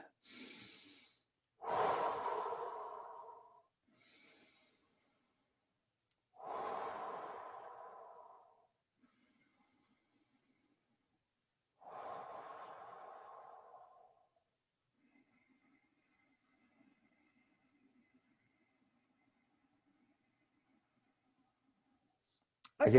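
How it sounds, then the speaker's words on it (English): Deep, slow breaths from a person in a quiet room: three long, audible inhale-exhale swells spaced several seconds apart, close and fairly soft, followed by near silence. "I'm going to have to just breathe a minute"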